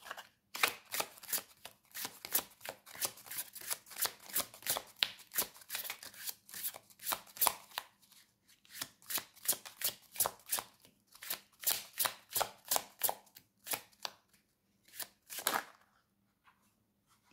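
Playing cards shuffled by hand for a spirit card reading, a quiet, close series of rapid riffling bursts repeating in uneven runs with short pauses, no talking.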